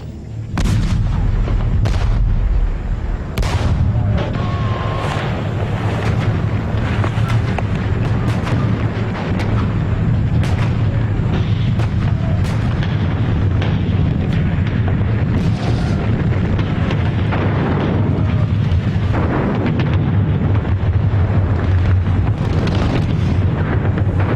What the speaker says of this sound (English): The assault on the French stronghold of Dien Bien Phu begins.